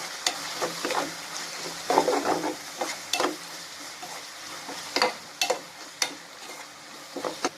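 Garlic and curry leaves sauté in a pan for a dry barracuda fish fry, with a steady sizzle broken by repeated sharp scraping stirs of the spatula, close and moderately loud, and no voices.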